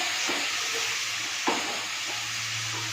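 Sliced onions frying in a pan, a steady close sizzle with a couple of brief stirring clicks and a low hum beneath, no talk.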